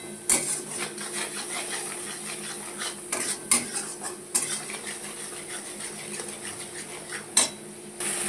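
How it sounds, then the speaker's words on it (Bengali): Salt and turmeric being stirred and sautéed in a hot pan while cooking a bottle gourd, potato and shrimp ghonto: repeated metal spatula scrapes and clinks against the pan over a faint, steady background hiss. "ভালো করে মশলাগুলোকে একটু কষিয়ে নেব"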